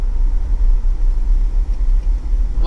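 A 1993 Ford Mustang SVT Cobra V8 rumbles deep and loud from inside the car, its low growl pulsing unevenly through a shift from first to second gear, with no voices.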